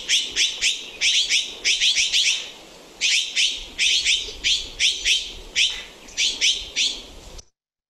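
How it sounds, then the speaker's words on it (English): A Mexican mountain bird species gives its common call in the Patagonia Mountains: loud, close bursts of high, rapid chirping notes in repeated clusters, separated by brief pauses, with no other sound competing. "Here we can hear a common vocalization of this Mexican mountain species."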